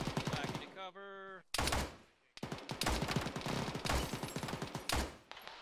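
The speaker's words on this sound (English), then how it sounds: "On those contacts to our north shooting at us?" Gunfire from enemy contacts in an Arma military game: loud, sharp rifle and machine-gun bursts come in rapid clusters separated by short gaps, with a brief voice over a radio crackle early on.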